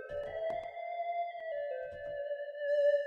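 A physically modeled woodwind synth voice in the Surge VST plays a sustained, breathy tonal note with slight pitch movement and light reverb, with soft percussive clicks near the start.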